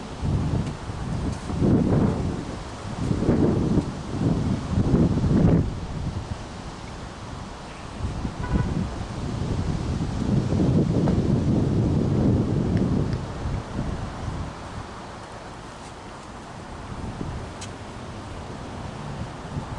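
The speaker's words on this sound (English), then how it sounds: "Wind is crazy right now." Strong wind gusts buffet the microphone outdoors at a camp, loud surging bursts for the first several seconds, then a steadier roar that eases toward the end, with no voices.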